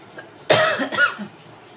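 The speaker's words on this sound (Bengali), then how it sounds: "কাশি হয়েছে জানেন" A person coughs close by, one harsh loud burst quickly followed by a second weaker one, set against a quiet room.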